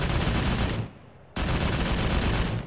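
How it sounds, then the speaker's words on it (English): An anti-aircraft autocannon in a video game fires in loud, dense bursts, a sustained roar of rapid shots that cuts off briefly near the middle before a second burst resumes and runs to the end. "We also added some AA autocannon."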